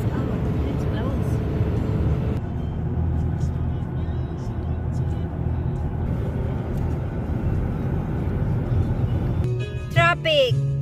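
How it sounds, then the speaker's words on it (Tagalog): Steady low road rumble heard from inside a moving car on the way to an IKEA store in Texas, a continuous drone of tyres and engine with brief sharper noises near the end. "Traffic."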